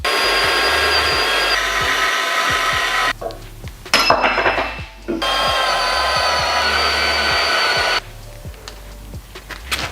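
A portaband saw cutting metal in a fabrication shop, a loud continuous whine with a brief interruption and changes in pitch partway through as the blade works through the stock.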